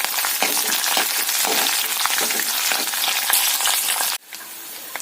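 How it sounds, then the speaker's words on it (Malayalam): Coconut pieces and green chilies stir-fried in a pan for a bean stir-fry, a loud, close, continuous sizzle with repeated scraping stirs, cutting off abruptly near the end, and no talking. "നമുക്കതിലേക്ക് ഒരു മൂന്ന് പച്ചമുളക് കീറി വെച്ചിരിക്കുന്നവിടെ ചേർത്ത് കൊടുത്ത് നന്നായിട്ടൊന്ന് ഇളക്കി വഴറ്റിയെടുക്കാം"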